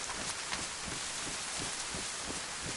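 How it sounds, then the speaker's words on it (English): Steady rain falling outdoors, a dense continuous hiss with faint pattering drops and a little rustle, alone with no voices. "Just a minute while this rain calms down a little bit."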